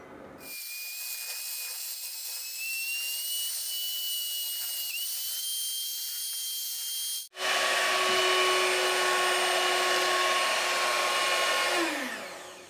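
Whipped cream with vanilla is beaten with a steady motor whine that cuts out briefly, then returns louder and winds down at the end.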